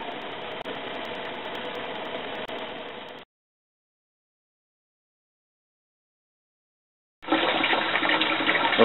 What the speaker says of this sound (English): That's cold water running around it.